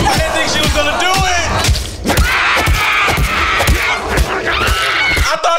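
A woman screams repeatedly in a played-back video. The shrieks are loud, frantic and tonal, mixed with thumps and crowd-like commotion.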